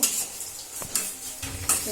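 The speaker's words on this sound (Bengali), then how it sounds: "পাকোড়াটা আমি উল্টাই ফেলছি" Chicken pakoras fry in hot oil with a continuous sizzle, broken by a few sharp scrapes and clinks of a utensil against the pan as they are turned.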